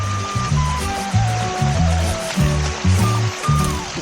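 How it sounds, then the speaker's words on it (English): Warm onsen water from a hot-spring waterfall flows down a rocky stream in eastern Hokkaido, a steady close babbling rush with a pulsing, gurgling rhythm and no talk. "This water's all coming from a onsen waterfall."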